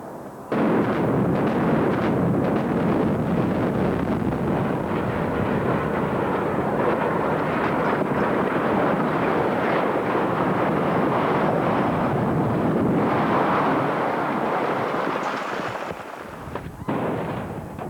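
Demolition explosion bringing down silos, a long dense roar of blasts and crumbling rubble that stays loud and sustained for most of the stretch before tapering off, with faint voices at the edges.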